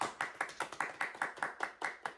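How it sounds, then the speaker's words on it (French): A small church congregation claps in a steady rhythm during a worship service, about ten sharp hand claps spaced evenly, moderately close and without voices. "Applaudissons le Seigneur."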